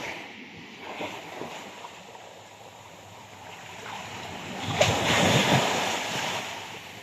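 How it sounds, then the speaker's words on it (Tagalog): Ocean surf rushes and crashes continuously, building to a louder surge of breaking waves midway, with wind buffeting the microphone. "lakas ng alon ah"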